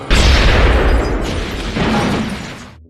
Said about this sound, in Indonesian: kemudian bom itu meledak